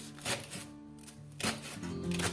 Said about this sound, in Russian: Вот таким образом я нарезаю